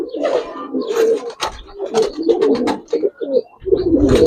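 A Giribaz pigeon coos up close in a run of throaty, rolling calls with brief gaps between phrases, loud and clear with no voices.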